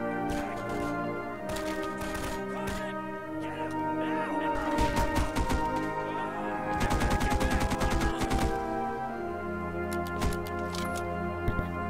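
Video game gunfire crackles in dense bursts of rapid shots amid steady game music, the firing loudest and most concentrated in two volleys midway.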